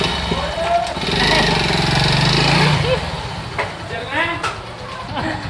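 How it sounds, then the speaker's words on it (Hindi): A motorbike is wheeled out and started, its engine running loud and close with a low rumble for several seconds before settling to a rougher idle, while people talk nearby. "बाइक निकाल रहा है देखो"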